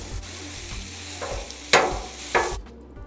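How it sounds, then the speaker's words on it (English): Sausage cooking in a pan for migas breakfast tacos: a steady, close sizzle with soft utensil knocks and two louder scraping bursts before it cuts off abruptly. "Cook the sausage."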